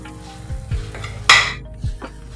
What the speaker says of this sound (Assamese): এতিয়া অলপমান জিৰা দি দিম। আৰু এইখিনি অলপমান ভজা হোৱাৰ পাছত